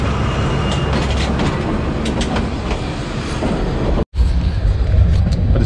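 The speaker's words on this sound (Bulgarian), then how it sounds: "Тук сме спрели в Якоруда и чакаме на следващо идващия влак" A train rolls through Yakoruda station in Bulgaria with a steady, loud rumble and rattle of railcars, broken by a brief dropout before the noise resumes.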